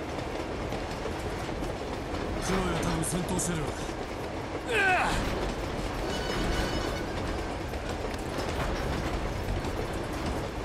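A runaway train in the Uncharted video game rumbles and clatters steadily, with wheel clacks and a brief metallic screech midway, while a person speaks over it.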